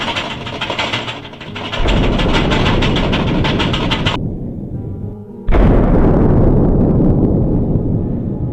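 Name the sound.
warship self-detonating explosion in video game Warship Craft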